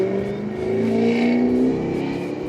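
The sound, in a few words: Mustang with loud blown-out exhaust driving by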